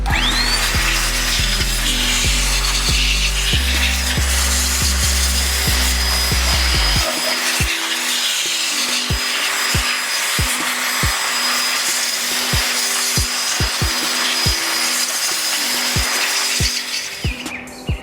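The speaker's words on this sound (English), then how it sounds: "I'm going to use my blower again to blow it into the creases and everywhere" A blower pushes cleaning product into the creases of a car engine bay at home, giving a loud, steady whooshing roar up close for nearly the whole stretch while a low hum drops out partway through.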